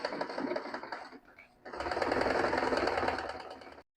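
A sewing machine stitches a fabric seam through thick, tricky areas while the fabric is pulled along, a steady fast whirring hum that briefly slows and dips, then runs again before stopping abruptly.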